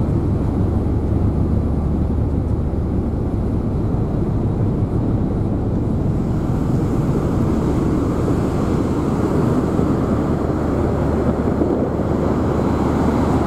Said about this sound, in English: Quite noisy up here, the engines.